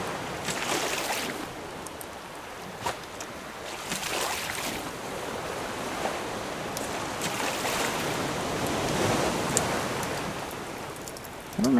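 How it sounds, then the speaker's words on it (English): Rough sea in the survival game Raft, a steady wash of surging, splashing waves at moderate volume with hissing spray and occasional sharper splashes. "The seas are getting a little shaky."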